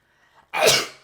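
A single sharp, loud sneeze bursts out close up after a faint breath beforehand.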